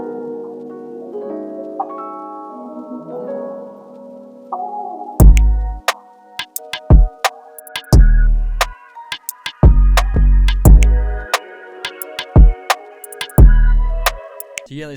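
A soulful R&B beat: a soft melodic sample plays alone at first, then snaps, rolling hi-hats, kicks and short 808 bass hits drop in, building a steady bouncing groove.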